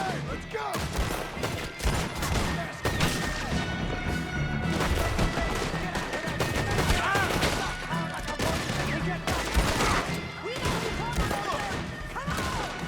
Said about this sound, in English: There's literally someone shooting at me right there.